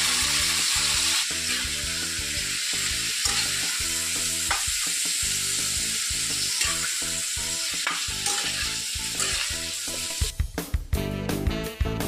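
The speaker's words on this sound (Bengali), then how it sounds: "মাংসটাকে এরকমভাবে ভাজা হয়ে গেলে তুলে নিন, আর তার জুসটাকে এরকমভাবে তুলে নিন" Meat frying in a pan, a continuous close sizzle and crackle with stirring scrapes throughout, turning sharper and more spattering toward the end, with no talking.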